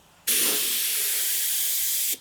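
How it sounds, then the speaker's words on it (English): A steady, loud hiss starts abruptly and runs unchanged for about two seconds before cutting off, like an air compressor running close by. "I'm not going to mute this track so that you guys can hear this compressor run."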